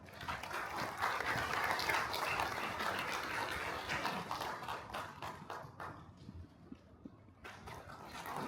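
Audience applause at an outdoor launch rally for a special administrative capital law, a dense, fairly faint wash of clapping that thins out near the end, then briefly swells again.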